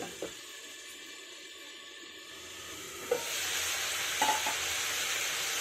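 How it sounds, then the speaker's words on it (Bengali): Potato, carrot and onion frying together in a pan, a quiet low hiss that swells into a louder, steady sizzle after a few seconds, punctuated by a couple of utensil knocks and stirring scrapes. "ঢাকা দিয়ে ভাজলে সবজিগুলো নরম হয়ে যাবে।"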